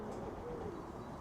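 Racing pigeons near their loft, a soft low cooing heard faintly through a steady outdoor background, brief and distant.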